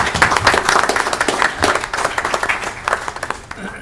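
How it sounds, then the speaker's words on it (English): Clapping at a county freeholder meeting for a woman named Joanne and Director Graziano, a room of people applauding in a dense patter that thins and tapers off toward the end. "Let's give Joanne a big round of applause and Director Graziano"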